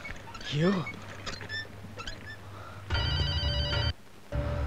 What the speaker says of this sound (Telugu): Okay Dilip, phone for you.